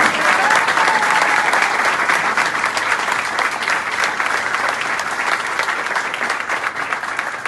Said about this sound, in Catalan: Jordi, un aplaudiment